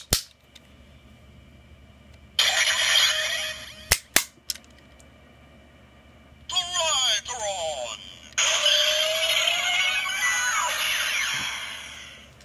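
Electronic sound effects burst from a Kamen Rider Drive Shift Trideron toy in several loud chunks separated by sharp clicks and near-silence, with a long final burst.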